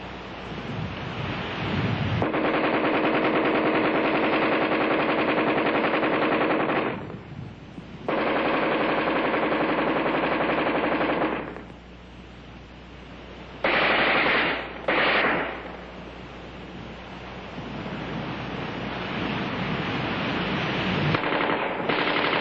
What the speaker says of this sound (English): offhand firing against a man-sized target at combat range, the AR-10 is in a class by itself